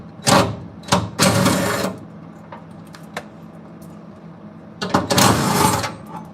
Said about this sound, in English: Finish welding that